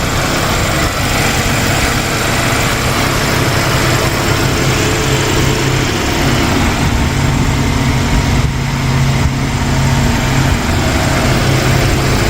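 A 2015 Kia Optima EX's 2.4-liter four-cylinder gasoline engine runs steadily at a loud, even idle-like drone, close by and continuous, with no speech over it.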